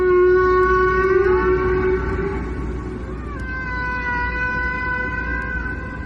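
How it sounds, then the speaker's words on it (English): Long tonal whale calls with stacked harmonics, sliding slowly in pitch, sustained and loud over a low noisy rumble, with no talk. "A whale."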